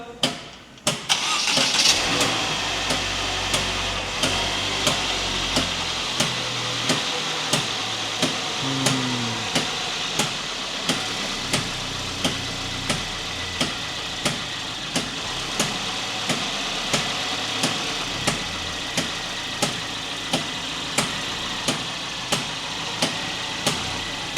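A Mercedes with a 9G-Tronic automatic transmission cranks and catches, then settles into a steady, close idle with a regular ticking pulse running throughout.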